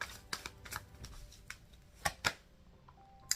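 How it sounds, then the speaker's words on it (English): A few quick riffling tarot card shuffles with crisp snaps and taps, close and fairly quiet, separated by brief pauses. "I'm gonna shuffle."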